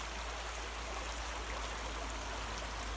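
A small waterfall pours into a stream in an even, continuous rushing wash, steady and moderately close, with no voices.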